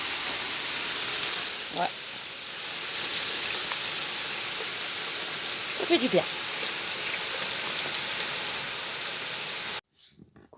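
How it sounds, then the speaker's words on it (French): Steady rain hisses down outdoors in a dense, even patter, with a couple of brief spoken words partway through before the sound cuts off abruptly. "Tant mieux qu'il pleut."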